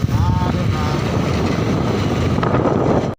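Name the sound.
cold wind blowing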